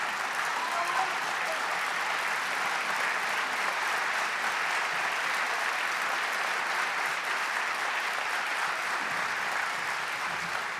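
A large audience at a distinguished alumni award ceremony applauds the honoree, with dense, even clapping sustained for about ten seconds and a faint murmur of crowd voices mixed in.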